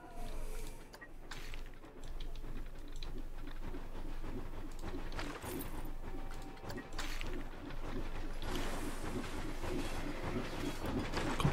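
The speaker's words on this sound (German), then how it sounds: "Die Eisenbahn." A railway train in the theme-park building game Planet Coaster rolls past with a continuous rumbling clatter, steady and fairly loud throughout, with faint bird-like chirps on top.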